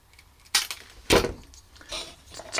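A small wooden joint peg on a handmade Dutch doll is sawn off slightly proud with a fine hand saw, giving two short, sharp rasping strokes close by followed by lighter scraping.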